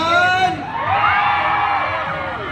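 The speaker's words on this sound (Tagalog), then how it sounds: "Isang malakasang hiyawan nga dyan!" A festival crowd at the 50th Metro Manila Film Festival cheers and whoops loudly, the shouts rising and falling over about two seconds with a burst of high voices and some yelling.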